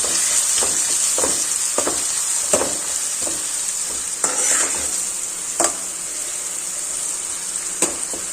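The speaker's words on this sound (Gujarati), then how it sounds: "અને આદુ મરચાં લસણની પેસ્ટ છે તે એડ કરીશું, સાતડી લેશું" Ginger, chili and garlic paste with onion sizzles steadily in a pan for a bhujiya curry, with a spoon scraping and stirring through it every second or so, close and alone.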